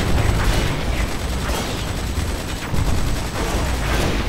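Dense gunfire from a base coming under attack in the real-time strategy game Command and Conquer 3: Tiberium Wars, a steady crackling barrage of shots and mechanical battle noise running continuously at high loudness.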